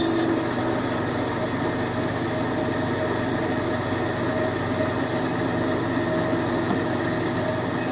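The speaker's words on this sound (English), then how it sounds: "Run it through the planer next." A power planer grinds continuously through a piece of wood, a loud dense steady roar with no pauses and no voices.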